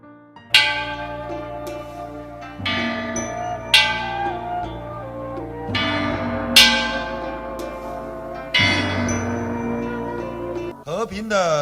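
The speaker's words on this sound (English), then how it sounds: "The sound of the bell of world peace and love brings peaceful and comforting wishes." The bell of world peace and love rings during a solemn prayer ceremony: several resonant strikes spaced a few seconds apart, each ringing out in a long, shimmering decay, with no voices over it.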